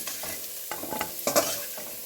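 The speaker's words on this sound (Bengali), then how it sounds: "দিয়ে আমি ভালো করে আলুগুলোকে কষিয়ে নেব।" Potatoes sautéing with salt and turmeric in a pan give a soft sizzle under several quick scraping stirs of a spatula, close up and fairly quiet, with no talking.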